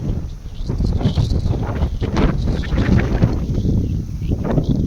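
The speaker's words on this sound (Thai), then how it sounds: "พี่น้องอาจจะได้ยินเสียงลมแน่" Strong wind blows hard and steadily outdoors before rain, a loud continuous roar with rustling gusts and buffeting against the microphone throughout.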